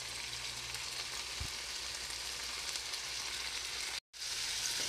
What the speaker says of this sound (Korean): 이제 센 불에서 빨리 볶아내면은 짜장 스프는 완성되었고요